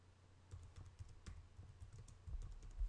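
Someone types on a computer keyboard, producing soft, irregular clicking keystrokes close by in a quiet room, with a slightly denser run of keys toward the end.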